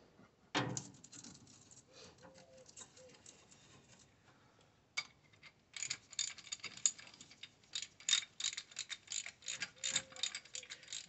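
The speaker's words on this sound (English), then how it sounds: "Use a ratchet there." A ratchet wrench works on an old engine in a shed, with quick clicking bursts in uneven runs, close and fairly loud, separated by short pauses.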